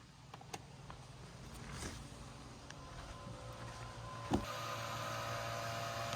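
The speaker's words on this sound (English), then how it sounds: "Pump is on. It's working." A home grinder pump runs steadily in a building that failed inspection, a low mechanical hum with tonal bands that holds throughout, with a brief knock partway through and no talking.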